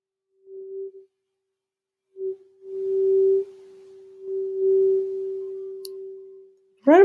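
A steady 384 Hz sine tone in a virtual speed-of-sound lab, starting in short bursts then holding long and even, swelling and fading in loudness, with a brief rising chirp at the very end; no voice.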